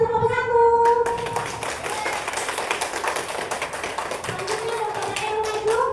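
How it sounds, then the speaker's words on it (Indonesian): Classroom applause for a student group: a short round of scattered hand clapping, moderately loud and fairly close, running steadily over a background tone. "beri aplaus untuk kelompok 1"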